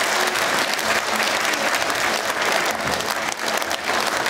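Sustained applause from an audience at an aitysh improvised-poetry event, dense and loud steady clapping throughout.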